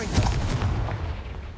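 Confringo fire-blast spell from Hogwarts Legacy striking a piled blockade in front of a stairwell: a loud, booming burst with a rumbling low end that stays up and decays across the second and a half, with no talk.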